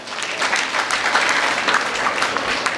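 A crowd claps at an outdoor college graduation ceremony in a stadium, a steady, moderately loud patter of many hands that continues evenly for the whole few seconds.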